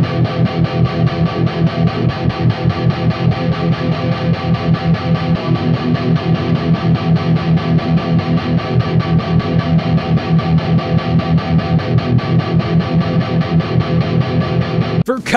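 A heavily distorted electric guitar, played with a Dunlop James Hetfield White Fang pick, chugging a steady, rapid palm-muted riff, loud and continuous throughout.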